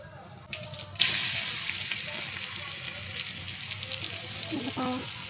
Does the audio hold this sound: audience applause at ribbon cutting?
no